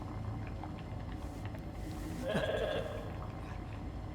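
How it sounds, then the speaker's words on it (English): Sheep bleating in the video game The Alters, a short bleat around the middle of the clip rising above a steady ambient game background with a low hum. "Let's go talk to our sheep."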